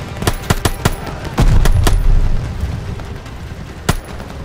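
Rapid bursts of gunfire in the Call of Duty: Vanguard campaign, sharp separate shots crackling over a steady low battle rumble with a heavy boom in the middle, near and loud.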